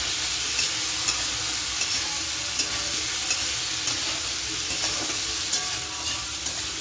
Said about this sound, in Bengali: নুন দিয়ে তারপরে নাড়াচাড়া দেবো